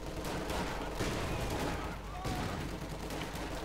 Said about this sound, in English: Great big grenade assault there against the MD-42, almost getting the entire crew